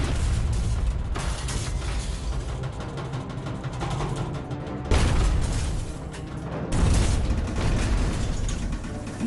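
Repeated heavy booms and rumbling blasts from destroyer depth charges burst around a submarine, loud and continuous, with metallic rattling and creaking throughout and two sharper surges partway through.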